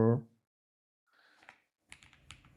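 Code being typed on a computer keyboard: after a short vocal sound at the start and a silence, a few quiet, sparse key clicks follow in two brief bursts, close and faint.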